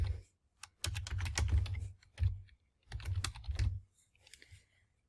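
Bursts of keyboard typing on a computer, as someone enters a short line of text for a Cricut print-then-cut die-cut sticker design; rapid close clicks come in three clusters with brief pauses between them and no talking.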